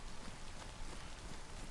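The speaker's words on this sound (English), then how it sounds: "Bloody raining again." Rain falls steadily in the DayZ survival game, a soft, even hiss of drops with no pauses, faint and continuous, heard alone without voices.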